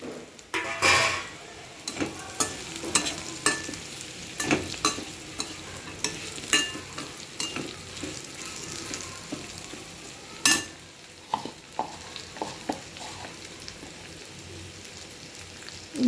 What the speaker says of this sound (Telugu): ఇప్పుడు వేయించి పెట్టుకున్న ఈ కాకరకాయ ముక్కలు వేసేస్తాం.